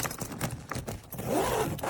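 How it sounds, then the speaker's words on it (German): Zipper running along a Kono lightweight hard-shell ABS+PC cabin suitcase, a close, continuous rasping zip with a couple of brief scrapes. "Der Reißverschluss ist perfekt."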